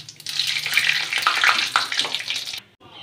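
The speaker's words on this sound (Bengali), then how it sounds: "এবার কড়াই তেল দিয়ে দেব দুটো শুকনো লঙ্কা ফোড়ন, দিয়ে দেব দারচিনি লবঙ্গ, দেব জিরে ফোড়ন দুটো, দিয়ে দেব তেজপাতা।" Dried red chillies, cinnamon, cloves, cumin and bay leaf hit hot oil in a wok, giving a loud, close burst of crackling sizzle that spits and pops for over two seconds, then drops off suddenly.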